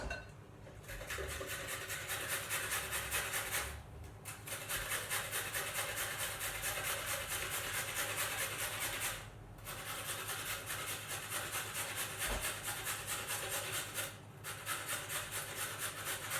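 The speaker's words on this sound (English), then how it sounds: "So using the same grater, I'm going to grate my carrots." Carrots are grated on a hand grater for muffins, making a steady rhythmic rasping scrape in long strokes, with brief pauses roughly every five seconds as the grip is reset; no one speaks.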